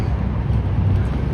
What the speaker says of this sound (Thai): มื้อนี้สิมีลม